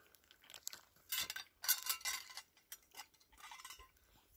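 A metal spoon handle clinks and scrapes against a camping cooking pot and its lid, a string of light, quick metallic taps and rattles at close range with short pauses between bursts.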